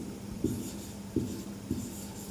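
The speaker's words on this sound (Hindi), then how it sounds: "चलो मैं इधर पे एसिड लिख लेता हूं" Chalk or marker writing on a board in a classroom lesson gives three brief scratchy strokes, faint against a low room hum, with no talk.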